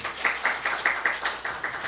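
A church congregation at a Seoul morning service claps, with distinct rhythmic beats about every quarter second, loud and close, with no speech over it.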